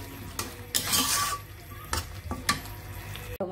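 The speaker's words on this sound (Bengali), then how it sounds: "এই তরকারিটা কষানো হচ্ছে" Curry being stirred and sautéed in a pan, with quick metallic scrapes and clinks of a utensil against the pan over a soft background sizzle, close and brief.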